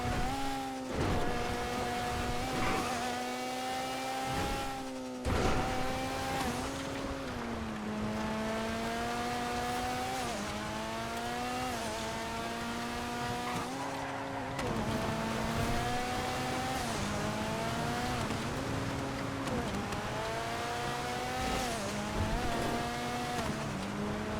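An Omnis car in GTA driving a snowy off-road and on-road track, its engine droning and rising in pitch repeatedly as it revs through gears, steady and loud throughout, with no voices.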